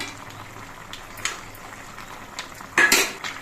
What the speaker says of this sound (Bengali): শুক্তটা আর একবার নেড়ে চেড়ে দিচ্ছি